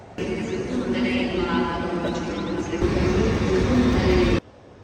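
Train interior on a rail trip to Vienna: a steady, fairly loud rolling rumble and rattle that fills most of the moment, then drops away abruptly near the end.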